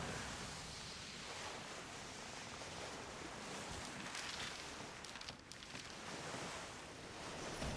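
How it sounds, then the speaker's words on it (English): A sailing cutter pushes through waves in the rain in the Skull and Bones pirate game, a steady close wash of surf, spray and wind noise running throughout with no talk. "Time to cut all the waves in the rain!"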